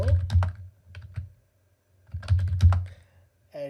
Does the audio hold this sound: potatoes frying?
no